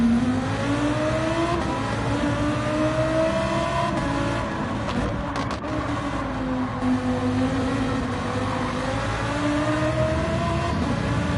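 Lamborghini Huracan GT3 race car engine in Gran Turismo 7, a loud steady high-revving drone with rising and falling pitch as it shifts through gears, continuous and close throughout.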